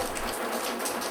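Steady rain falls in a dense, even hiss of countless drops, continuous and close with no voices.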